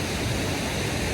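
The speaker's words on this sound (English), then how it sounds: "So I don't know if you can hear me with the waterfall behind me" The lower falls in the Hooker Falls area make a steady, dense hiss of rushing water that fills a very short stretch. The sound is even and unbroken, with no voices.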